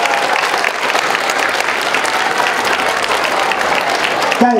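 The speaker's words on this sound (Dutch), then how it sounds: "geef ze een hartelijk applaus" A dense, loud crowd applauds continuously at an outdoor King's Day celebration, a sustained roar of many hands clapping from start to finish.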